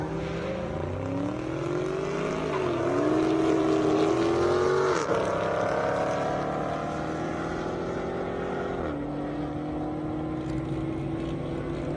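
Drag racing cars, a Challenger and a Mustang, launch at an airstrip drag event, engines roaring loud and close with rising pitch sweeps as they accelerate, one sharp gear change and a continuous dense rumble throughout.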